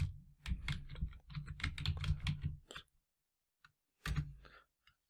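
A folder name is typed on a computer keyboard, a quiet, close burst of rapid key clicks for about three seconds, then a pause and a few more isolated keystrokes.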